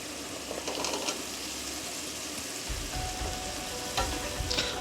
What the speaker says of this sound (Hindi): अच्छी तरह हिलाएंगे।